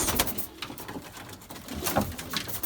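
Domestic pigeons in a breeder's loft in Yeni Foça coo in soft, repeated low calls, with light fluttering and shuffling close by. The cooing comes and goes in short bursts with no talk over it.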